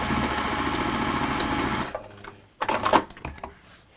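A sewing machine stitches along a line in a steady, fast mechanical whir that runs for about two seconds and then stops, followed by a few faint handling clicks and thumps.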